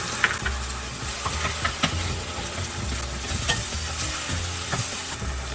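Finely chopped medium tomato, added to onions for a yellow peas ghugni curry, sizzles steadily in a hot frying pan while a spoon scrapes and stirs it in irregular knocks, close and continuous, with no talk.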